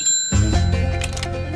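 A bright metallic notification bell dings once, sharp and loud, its clear ringing tone lingering and fading over a second or so with no voices.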